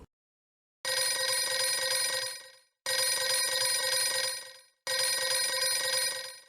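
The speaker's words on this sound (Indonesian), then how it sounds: "Kita tunggu sampai telepon tersambung." Telephone ringback tone while a call connects, three long evenly spaced rings with short silent gaps between them, loud and clear with no talking.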